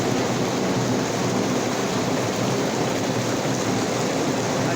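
Steady heavy rain falling outdoors on the outskirts of Guadalajara, Jalisco, on a Sunday afternoon, a dense continuous hiss with a low rumble beneath it, loud and unbroken, with no one talking.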